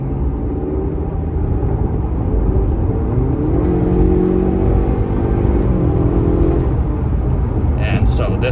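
A small-turbo 2-liter car accelerating hard, a loud, steady engine drone rising in pitch with a broad, sustained roar, heard up close from inside the vehicle.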